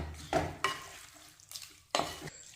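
Ginger mango pickle stirred in a pan with vinegar, a few distinct scraping clacks of a spoon against metal spaced over a couple of seconds above a soft low sizzle.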